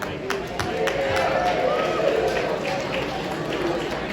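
A crowd at a benefit dinner cheers and shouts together in a big, steady roar with scattered whoops and claps, fairly loud and continuous throughout.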